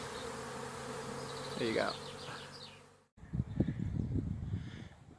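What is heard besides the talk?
bees buzzing around a beehive in a yard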